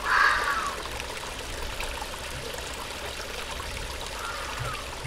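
Flowing water in the horror game Die Young, a steady stream trickling and pouring with a brief louder splash at the start, then a constant moderate wash with no talk over it.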